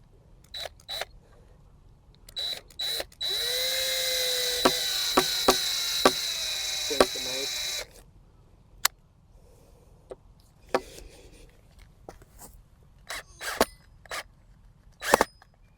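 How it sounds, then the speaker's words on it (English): A cordless drill with a dying battery drives screws into wood, giving a single whirring motor burst of about five seconds, surrounded by sharp clicks, knocks and handling taps in an otherwise quiet room. "Probably would have helped if I drilled through these first."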